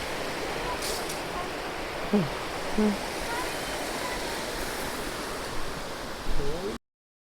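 A waterfall on the Agasthyarkoodam trek gives a steady, even rush of falling water filling the scene, with faint voices and a few small knocks on top.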